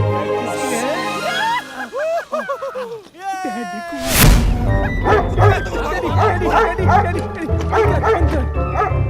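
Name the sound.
guard dog barking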